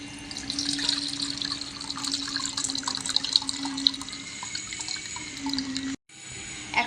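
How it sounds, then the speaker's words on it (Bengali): Soaked tamarind water being strained by hand in a kitchen, a steady close trickle and splash of liquid with small drips running for several seconds before a brief drop to near silence. "এখন আমি তেঁতুল জল ছেঁকে নেব।"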